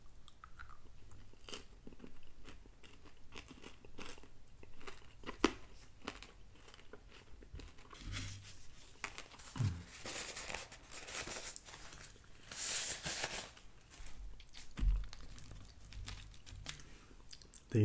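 Trader Joe's Jingle Jangle candy, small M&M-like pieces, bitten and chewed up close, with soft repeated crunches and crinkles spread over a quiet stretch.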